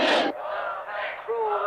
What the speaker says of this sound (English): How cruel the football crowd can be. The king now being jeered.